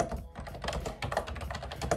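Rapid, uneven typing on a computer keyboard, a steady patter of clicky keystrokes close to the microphone.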